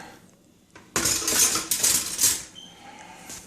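Metal spoons and cutlery clatter and jingle close by as a spoon is dug out from among them, a burst of bright clinks lasting a second or two after a quiet start.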